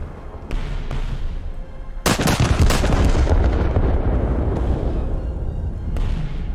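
Battleship shells striking a target in a naval warfare video game: a sudden heavy burst of booming impacts and rumbling blasts, loud and close, with the roar sustained and decaying over several seconds.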